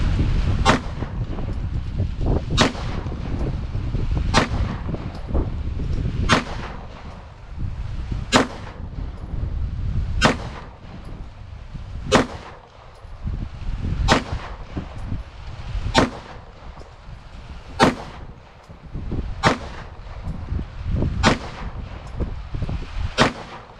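Walther PDP pistol firing Winchester white box 115-grain ammunition: about a dozen sharp, loud shots at irregular intervals of one to two seconds, each cracking out over a steady outdoor background.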